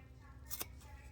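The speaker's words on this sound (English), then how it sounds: "You're only cutting the main panel part out." Scissors snip through a sewing fabric panel, a brief close cut with a quick crisp rasp over a quiet background.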